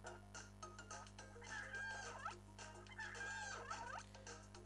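In the video game Pekka Kana 2, a chicken clucks repeatedly in short bursts over steady game music, moderately quiet.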